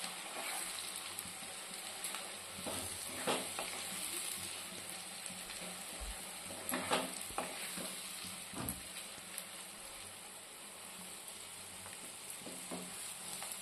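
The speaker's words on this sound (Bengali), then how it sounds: "টমেটোটাকেও ভালো করে ভেজে নেব।" Chopped tomato sizzles steadily as it fries in a pan with capsicum and onion while making paneer bhurji, with occasional scraping stirs and soft pops over a continuous hiss.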